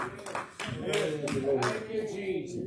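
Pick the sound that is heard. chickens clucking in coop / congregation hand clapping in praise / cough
congregation hand clapping in praise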